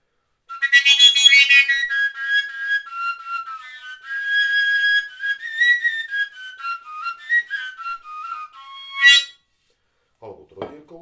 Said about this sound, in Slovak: Tu máme napríklad koncovku.